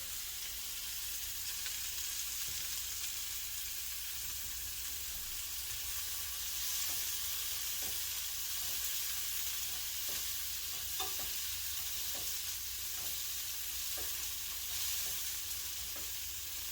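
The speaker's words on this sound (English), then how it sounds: "you just want to cook these for about, I would say, 3 minutes, 2 minutes, just to get a nice sear on the outside, and infuse the garlic" Food sears with garlic in a pan on low heat, a soft, steady hiss of frying running throughout with a few faint, scattered ticks and pops, quiet and continuous.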